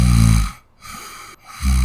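A person imitates snoring with two exaggerated, rumbling snore sounds, one at the start and one at the end, separated by a quieter wheezy breath, close and loud.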